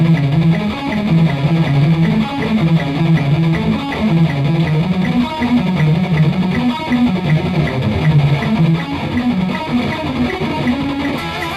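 A fast, heavily distorted electric guitar plays a shred metal passage with rapid alternate picking, dense and loud throughout, with no talking.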